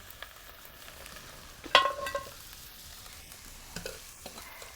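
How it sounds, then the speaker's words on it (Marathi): Soft scraping and stirring of coconut roasting on a hot griddle over a wood-fired stove, with a brief louder sizzle and clatter midway, otherwise quiet. "तवा ठेवलेला आहे तो खोबरं भाजायला ठेवते"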